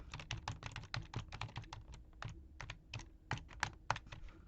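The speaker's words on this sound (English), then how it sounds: "I'm gonna turn the mic so you can actually hear the keyboard. I'm pressing all the arrow." Arrow keys on a computer keyboard pressed rapidly and repeatedly, a dense run of sharp, close clicks in uneven rhythm, heard alone without talk.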